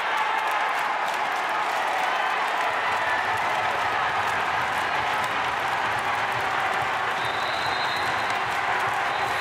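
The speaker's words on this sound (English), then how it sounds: "this Russian crowd tries to earn, urge, I should say, the home side on" Russian home crowd roaring at a women's bandy gold medal game, a dense, steady wash of cheering and applause that stays loud and continuous throughout.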